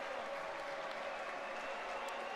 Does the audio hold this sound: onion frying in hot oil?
no